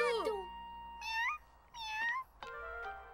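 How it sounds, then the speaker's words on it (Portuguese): A cartoon cat meows several times in a row, loud and up close. Each meow is short and rises or falls in pitch, with brief gaps in between and a faint musical bed underneath. "havia um pequeno e lindo gato que estava por um triz"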